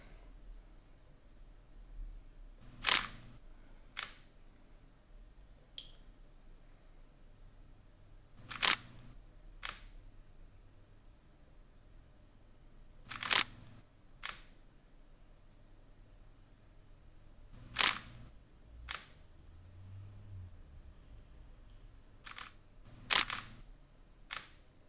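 A camera shutter fires repeatedly while photographing water drops, sharp isolated clicks spaced several seconds apart, some in quick pairs, over a quiet hiss.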